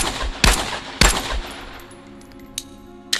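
A virtual reality video game gun on automatic fires a few sharp bursts near the start, then quiets to a low hum broken by a couple of faint clicks.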